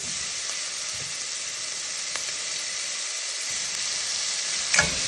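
Tomatoes sizzle and fry in a pan for a chicken and malunggay soup, a soft, steady hiss with a brief stir clatter near the end.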